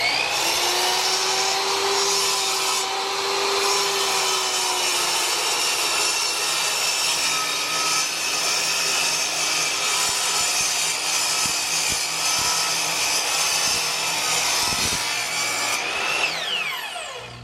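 Steady, loud sawing through a piece of mesquite wood, a continuous rasping cut that runs almost without pause for the full stretch before tapering off at the end, with no talking.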